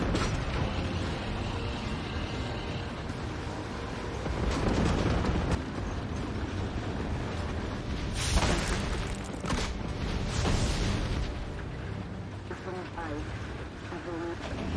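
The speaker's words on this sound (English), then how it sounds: "These rocket launchers continue harassing enemies with the cover of the base." Rocket launchers fire in the Warpath video game, a dense, steady wash of booming launches and rumbling explosions with mechanical clatter layered throughout, loud and continuous with a few stronger bursts in the middle.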